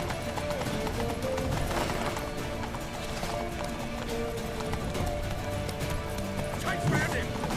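Rapid clip-clop of galloping horse hooves in the video game The Witcher 3: Wild Hunt, steady and dense under a busy mix of game sounds, with shouting voices and a neigh.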